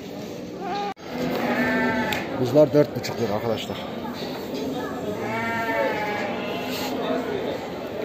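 Lambs bleat at the Aksaray livestock market, repeated close wavering cries in several bursts, mixed with someone talking nearby over market background noise.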